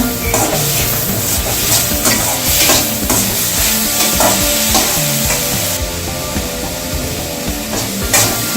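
Vegetables fry loudly in a pan with chilli tomato sauce for vegetable fried rice, a dense close sizzle broken by frequent scraping and stirring knocks throughout.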